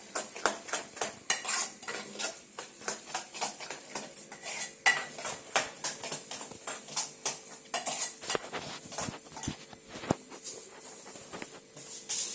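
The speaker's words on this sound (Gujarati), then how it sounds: "હવે એને ડાયરેક્ટ વઘારી દઈશ." Spices for a tempering are stirred in a pan, with frequent metal utensil clinks and scrapes against the cookware in an irregular rhythm over a faint, low sizzle.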